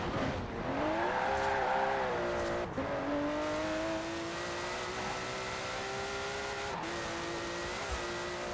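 A twin-turbo classic Porsche driven in the racing game Forza Horizon 4, its engine droning steadily and rising in pitch through the gears, with brief tire squeal and shifts, loud and continuous with no talk.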